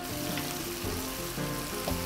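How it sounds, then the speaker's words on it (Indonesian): Fried rice with kencur stirred briskly in a hot pan as it sizzles with sauce, pepper, salt and sugar, a loud continuous crackle of frying with scraping stirs at close range. "Kemudian saus yang kita campurkan tadi aduk cepat ya"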